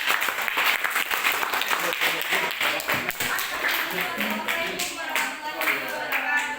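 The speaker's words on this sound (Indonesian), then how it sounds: "kalau kita beri tepuk tangan untuk kelompok 5" Classroom students give a round of applause for a student group after a presentation, dense continuous hand clapping from many people close by for several seconds.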